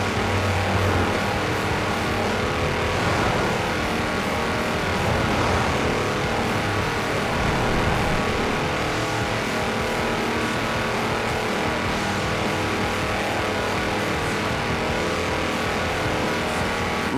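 A tractor on 4-inch mud tyres races flat out in Forza Horizon 4, a loud and constant engine roar with revving and tyre noise that carries on for many seconds without speech.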